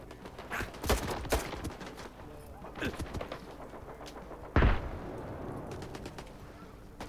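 Bursts of gunfire in the video game Stalker 2, rapid volleys and single shots, with one loud blast near the middle, fairly close over a low background.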